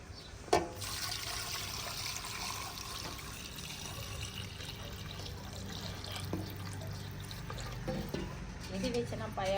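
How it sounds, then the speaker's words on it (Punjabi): Water is poured into a pot of meat for pulao in a village kitchen, a steady splashing pour close by, with a clink near the start and quiet rattles of utensils. "ਇਹਦੇ ਵਿੱਚ ਨਾ ਪਾਇਆ ਪਾਣੀ ਤਾਂ ਕਿ ਗੋਸ਼ਤ ਜਿਹੜਾ ਵਾ ਨਾ ਗਲ ਜਾਵੇ"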